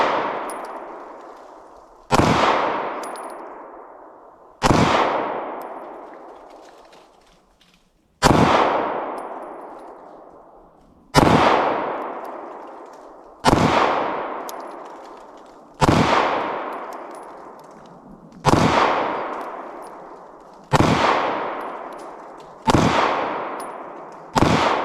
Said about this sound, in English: we're going to go ahead and run another 13 round mag through it